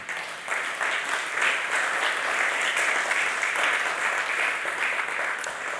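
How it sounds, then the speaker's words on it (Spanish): A church congregation applauds steadily through a Spanish-language sermon, producing a dense, even wash of many hands clapping that holds at a constant level for the whole stretch. "Denle un aplauso al Señor."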